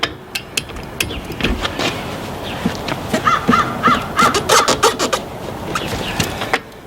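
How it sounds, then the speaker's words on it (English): Sharp metallic clicks from a wrench tightening the wheel lug nuts on a Casita RV trailer during a tire rotation, repeated in irregular bursts up close, while crows caw loudly in the background midway through. "It clicks when it's tight enough."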